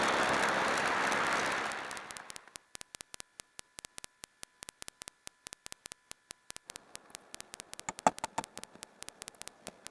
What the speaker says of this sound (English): Please put your hands together and welcome with a big round of applause, Honorable Sri Satish Maharaji.